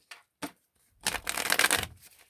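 Tarot cards being shuffled: two short soft card taps, then a brisk riffle shuffle lasting about a second, crisp and close with no talk.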